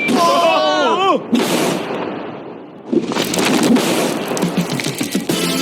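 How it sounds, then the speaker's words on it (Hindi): A voice is heard briefly, then a loud, sharp explosion blows up a steel safe, followed by a second blast and a long crackling rumble of falling debris. "इस धमाके ने सच में मुझे डरा दिया"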